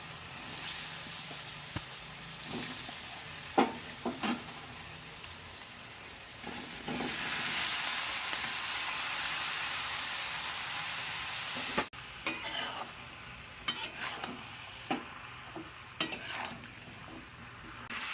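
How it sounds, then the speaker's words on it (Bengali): Ash gourd, salted beforehand to release its water, stirred in a pan over a high gas flame: steady soft sizzle under scattered scraping and clinking strokes of a utensil against the pan, with no voices. "গ্যাসটাকে একটু হাই ফ্লেমে করে ভালো করে নাড়তে হবে"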